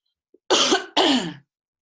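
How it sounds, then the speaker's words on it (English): Two loud, close coughs in quick succession, each a harsh burst of about half a second, with silence around them. "I'm going to cough now, pardon me."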